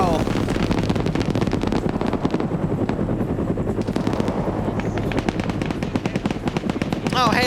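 Gunfire and explosive blasts from an Arma Vietnam PvP match, including a grenade detonation amid dense, continuous battle noise with overlapping voices chattering over the chaos.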